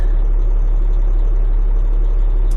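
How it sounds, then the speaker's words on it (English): A Cat 627G scraper engine runs with a loud, steady, close diesel rumble that holds evenly throughout, with no other sound. "so that'll start your first engine"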